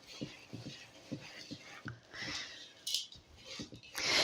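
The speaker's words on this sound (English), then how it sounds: "the next step is just to mix them together until all the oats are coated in the peanut butter" Peanut butter and oats are stirred together in a bowl with a series of soft, rhythmic thuds and scrapes close by, with faint background hiss and a couple of brighter clinks near the end.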